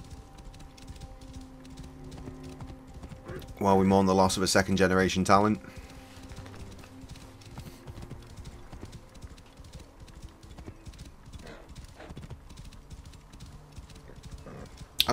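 Rhythmic horse hooves clip-clopping as a mount travels on auto-ride in Assassin's Creed Origins, a steady game sound running under someone talking, with a brief burst of louder music partway through.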